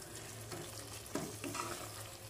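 A brief, quiet stir of colocasia masala with crushed dried coriander in a pan: soft scraping and a gentle sizzle under a low background hum.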